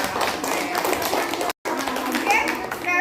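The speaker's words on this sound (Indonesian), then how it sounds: "Tepuk tangan" Children in an Indonesian classroom clap their hands in a quick burst of patter, broken by a brief dropout, with children's voices chattering underneath.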